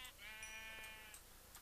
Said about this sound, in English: Alright, so there's a bunch of sheep over here.